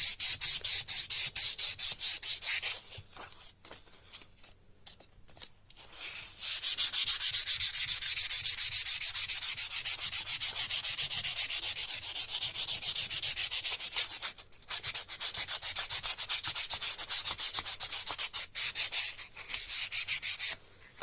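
An old wooden gunstock is sanded by hand with a rubber sanding block, giving a steady, close, raspy rubbing of repeated back-and-forth strokes with a few short pauses.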